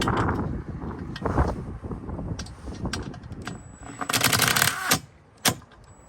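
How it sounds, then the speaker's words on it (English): Gusts of wind buffet the microphone in a continuous low rumble, swelling louder toward the end, with a few sharp knocks along the way. "It's a bit windy, eh?"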